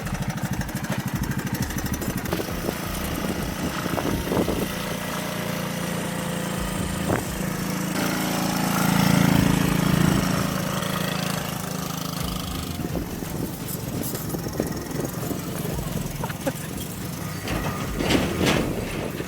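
A three-wheeler engine strains steadily while towing about 2,000 pounds, a loud continuous rough drone with rising effort partway through, running alone without talk.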